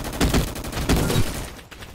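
Rapid bursts of gunfire in the Roblox game Gunfight Arena on a large battlefield map, dense loud volleys clustered in two waves with a brief lull, no speech over it.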